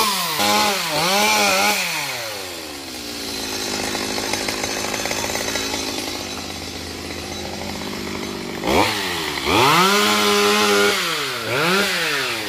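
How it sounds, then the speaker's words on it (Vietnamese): A chainsaw engine revs up and down in repeated bursts, loud and close, cutting Sonneratia (mangrove apple) tree branches, with a long steady cutting stretch in the middle. "lấy máy cưa của ba mình để cưa nhỏ ra"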